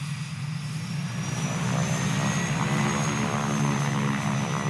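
An airplane engine drones steadily with a low propeller-like roar and a faint high whine around Seattle-Tacoma International Airport, loud and continuous without voices.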